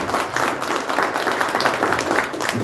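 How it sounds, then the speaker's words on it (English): An audience at a mayoral debate applauds, a dense continuous wash of clapping from many hands filling the room, fairly loud, with no speech over it. "Give everybody a round of applause"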